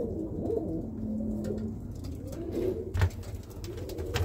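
Birmingham Roller pigeons coo in a loft of breeding pairs, a few soft, throaty rolling calls rising and falling close at hand, with a brief flutter or knock near the end.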